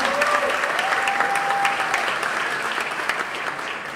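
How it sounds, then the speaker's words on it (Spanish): An audience at a storytelling event in a Cartagena theatre gives steady, full applause that stays even and fairly loud throughout, with a faint whistle rising above the clapping. "Un fuerte aplauso para Rodrigo Salgado, el descompositor."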